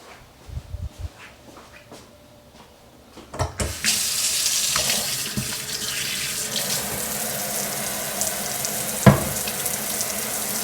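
Kitchen tap turned on for handwashing while cooking sheet pan chicken fajitas, with a few quiet clicks and knocks before a steady, close rush of running water fills the rest of the moment.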